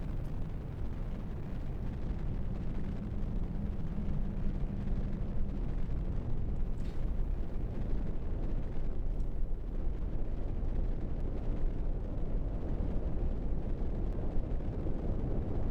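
Medium launch vehicle lifting off in Kerbal Space Program, a steady, loud broadband rocket roar rumbling continuously for the whole stretch, heavy low rush with no pauses.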